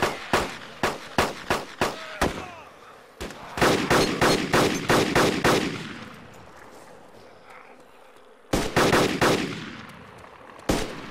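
Gunfire in DayZ: sharp, evenly spaced single shots in quick series, then a faster volley that decays into an echoing tail, a pause, and a final short cluster of cracks, loud and close with no talk.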